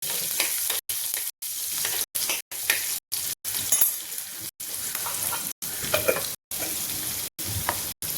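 Chopped onion sizzles steadily in hot oil as it fries toward light brown, with a continuous crackling hiss and a few faint clinks of stirring, for a home-style spinach and urad dal dish.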